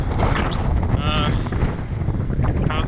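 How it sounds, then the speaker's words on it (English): Strong desert wind, gusting around 20 miles per hour, roars steadily and loudly across an open trail area near a pickup truck, buffeting the microphone throughout with broadband rumble and hiss. "Dear Lord, the wind picked up."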